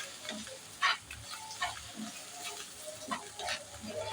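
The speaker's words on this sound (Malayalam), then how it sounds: "നമുക്ക് അതിനകത്തങ്ങ് ഫ്രൈ ചെയ്യാം" Eggs frying in a pan, a close sizzle with crackles and pops, punctuated by brief scraping and stirring sounds.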